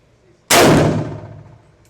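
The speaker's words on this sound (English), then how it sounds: "we're gonna take a couple shots with it at 5 yards" A single loud, close Draco pistol shot fired at 5 yards, a sharp sudden crack followed by a ringing decay lasting over a second.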